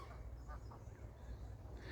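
Geese and ducks on a lake call faintly and at a distance, a few soft quacks and honks under a low wind-like rumble outdoors.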